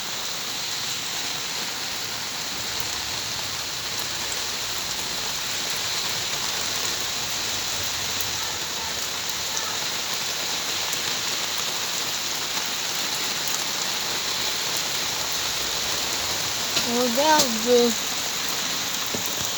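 Steady, dense rainfall from a moderate thunderstorm in Montady hisses continuously throughout, with a brief spoken word near the end.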